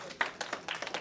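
Scattered, faint clapping from a small audience at a candidates forum on Long Island, a few sparse claps at an uneven rhythm, distant and thin.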